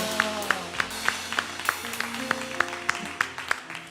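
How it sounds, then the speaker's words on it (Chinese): A church congregation claps in a steady beat, about three claps a second, along with music during a Sunday worship service. "我们拍掌，将荣耀归给我们的上主。"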